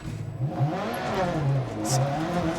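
A Subaru rally car engine in a racing video game revs and shifts through rising and falling pitches, a mid-range engine drone that climbs and dips repeatedly under light clatter.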